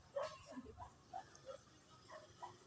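A small white dog, once a puppy picked up by a main road, gives several short yips and whimpering barks spread across a few seconds, fairly close, with quiet outdoor background and no talk.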